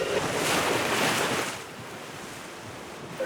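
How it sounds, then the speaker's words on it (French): Strong Meltem wind and waves at sea aboard a sailboat in the Cyclades, Aegean Sea: steady roaring wind noise buffeting the microphone with rushing surf, louder at first and then easing to a constant hiss. "Le redoutable vent des Cyclades, le fameux Meltem, s'est levé."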